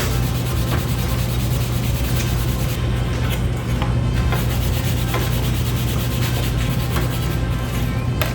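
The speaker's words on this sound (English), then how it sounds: "We're gonna rub it into this 4/0 steel wool" Steel wool, 4/0 grade, loaded with beeswax and orange oil being rubbed hard against wood, a loud continuous close-up scrubbing rasp with quick back-and-forth strokes throughout, no voices.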